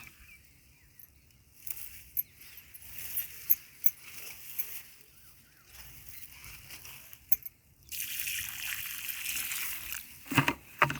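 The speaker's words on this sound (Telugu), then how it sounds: "ఇట్లా వాటర్ పోసుకోవాలి" Water poured onto potted plants, with intermittent splashing and trickling, faint at first and louder and steadier toward the end.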